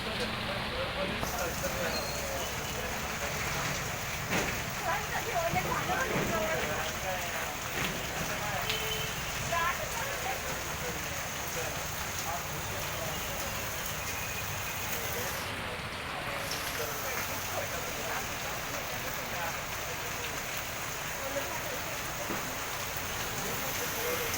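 Heavy rain pouring in Aurangabad, a dense, continuous wash of rainfall with people talking over it throughout.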